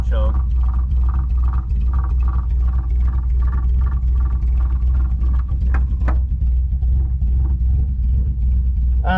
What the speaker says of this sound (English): All right, so it idles right at like 950, somewhere right around there